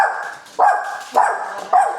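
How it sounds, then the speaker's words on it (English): A dog barks three times in quick succession, loud and close, indoors at home with no talking. "They're barking."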